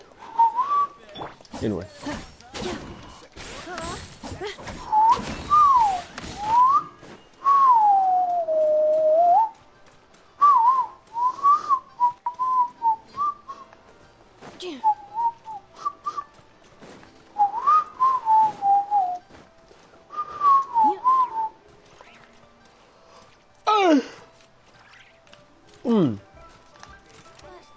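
A person whistles short melodic phrases in bursts, clear and close, with spoken remarks falling between and over the tunes.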